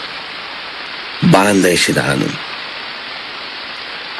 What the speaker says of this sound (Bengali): কিন্তু তখনও সমানভাবে বৃষ্টি ঝরছে আর ঝরছেই